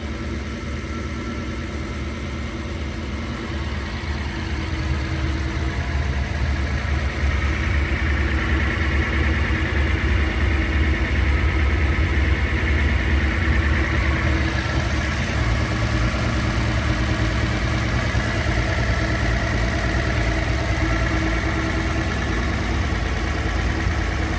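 A car engine fitted with freshly rebuilt Solex Mikuni carburetors idles steadily and close, a continuous low rumble that firms up slightly after the first few seconds and holds even with no voices.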